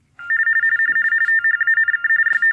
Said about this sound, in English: going to grab the tone dialer, put a number in I've got pre-programmed, put it back over here in the coupler